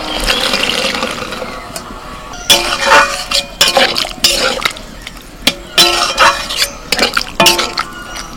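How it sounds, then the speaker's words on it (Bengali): Boiled kabuli chickpeas tipped into a pan of chole masala and stirred with a spoon, giving wet sloshing and a run of loud, irregular clinks and scrapes against the metal pan. "এবার সিদ্ধ করা কাবলি ছোলাগুলো দিয়ে দিচ্ছি।"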